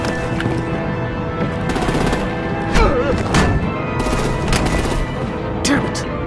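Gunfire and artillery in the video game Batman: The Enemy Within, with several sharp shots and blasts cracking over a dense, loud battle background.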